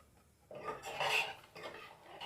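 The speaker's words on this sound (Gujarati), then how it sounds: "ચમચાથી આમ કરીને આપણે દાણા થોડા મસળી લેશું" Boiled pigeon peas being mashed with a spoon in their cooking water give soft, uneven scraping and clinking against the pot, a few close strokes with no talk.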